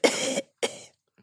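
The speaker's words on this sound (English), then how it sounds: "I know I'm going to cough." Two hacking coughs ring out close to a microphone in a podcast studio, the first longer and harsher, the second shorter, with a faint rustle after.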